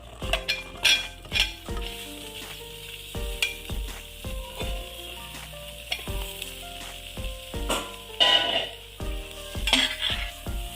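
Gooseberries fry in hot chili powder for a pickle while a utensil stirs them in the pan. Continuous sizzling runs under repeated sharp scraping and clinking strokes, close and lively, with no speech.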